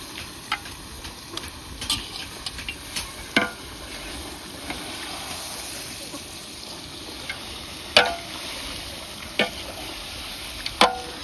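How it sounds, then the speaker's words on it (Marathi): Mutton tipped into a fried onion and turmeric gravy for a large village fair feast, giving a steady low sizzle broken by scattered sharp clicks and scrapes of stirring, with no voices. "तर हे आपलं सगळं मटण ग्रेव्ही झाली ना की असं सगळं टाकून घ्यावं लागतंय"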